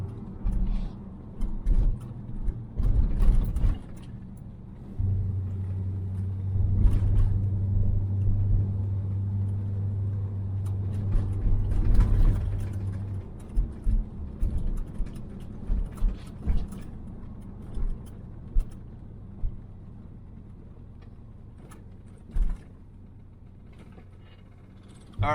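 A 1985 Chevrolet Silverado K20 4x4 driving through a dark neighborhood at night, heard from inside the cab as a steady low engine rumble with a sustained hum midway, and intermittent clicks and knocks over a quieter stretch.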